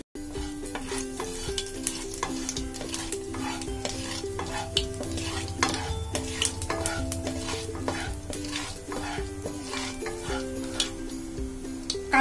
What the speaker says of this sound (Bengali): কালো জিরাটা দিয়ে আমি একটু ভেজে নিচ্ছি